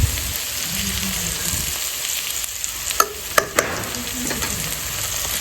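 Okra fries and sizzles in a kadai with a steady hiss, while a spoon stirs and scrapes with a few sharp clinks, close and moderately loud, with no talk.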